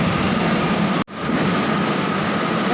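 A metro train pulls away from a station with a loud, steady rumble and hum that stays close throughout, broken only by one brief dropout, with no talking.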